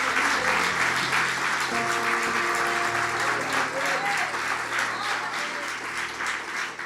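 A church congregation applauds steadily for several seconds while sustained organ or keyboard chords play underneath.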